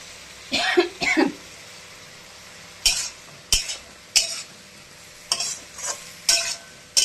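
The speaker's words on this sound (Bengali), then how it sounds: "এবার এর মধ্যে দিয়ে দেবো লাউটা।" Bottle gourd goes into a hot pan with green chillies, followed by sharp, separate bursts of stirring and scraping that come at irregular intervals over a quiet background.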